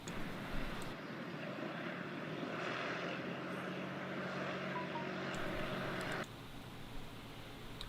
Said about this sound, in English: There's one coming in the background there for a landing.